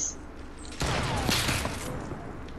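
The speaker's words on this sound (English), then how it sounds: "Did you just snipe that?" A sniper rifle shot in a Fortnite-style battle royale game, one loud sharp crack followed by a broad ringing tail and mechanical clatter that slowly fades.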